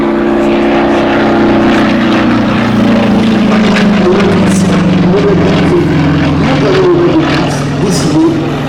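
A 424-horsepower aerobatic biplane designed by Curtis Pitts, its propeller engine droning loud and close with a steady, slightly shifting pitch throughout, while a voice speaks faintly beneath it.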